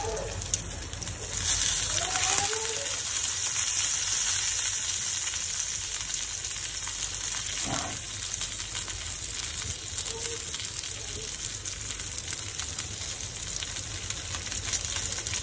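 Pomfret fish shallow frying in hot oil with curry leaves, a steady dense sizzle running throughout with a few small clicks and pops, close and fairly loud.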